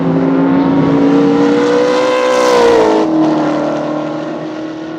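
A Holden LX Torana race car in improved production qualifying at Baskerville roars loud and close for about five seconds, its engine note rising then falling as it passes, with no talk.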